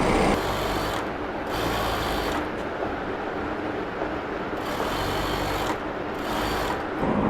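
An electric sewing machine runs an edge stitch along trouser fabric, a steady fast mechanical whir and rattle lasting several seconds, close and continuous with brief dips in speed.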